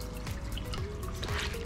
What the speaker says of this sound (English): we're gonna go ahead and rinse this out in this clean water